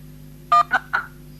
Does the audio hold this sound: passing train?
no